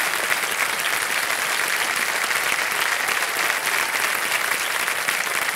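Studio audience on the KBC Season 14 game show applauding, a dense, loud, sustained wash of clapping from many hands that holds steady throughout without talk.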